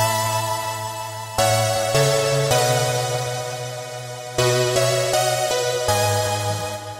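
Virus synthesizer playing its Silent One preset: sustained harmonic chords with a steady low bass tone, changing in several distinct steps, loud and alone with no talking.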